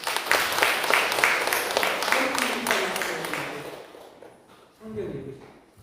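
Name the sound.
church congregation applause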